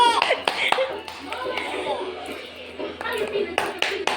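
A child claps hands in a few sharp, close claps at irregular intervals, with children and adults talking around them.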